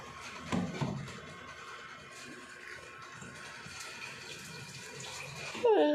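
Tap water runs steadily as a child washes hands at a sink, a soft continuous splash with a brief louder burst near the start and a clatter at the end, an adult voice speaking nearby.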